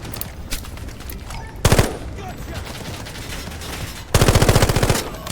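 Two bursts of rapid automatic rifle fire in the Delta Force video game, an M416 assault rifle, loud and close with a short burst early and a longer rattling burst near the end, over a steady background of game ambience.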